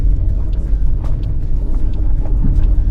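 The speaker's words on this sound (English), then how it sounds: "I actually put it in 4-wheel drive. I'll just put it in low, and so it just creeps up rather than trying to ride that clutch" A 1994 Mitsubishi Pajero with a 2.8 turbo diesel creeps along in four-wheel-drive low range, giving a continuous low engine rumble with a steady, even drone close by.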